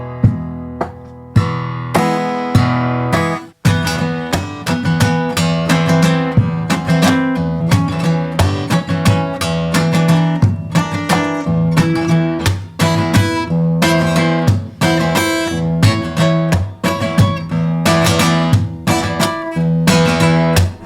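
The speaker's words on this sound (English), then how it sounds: "You also have players that are using kick sounds like this as they're playing." Fingerstyle guitar played continuously with percussive kick hits worked into the strumming, giving a steady rhythmic thump beneath bright, ringing chords, close and loud with no talking.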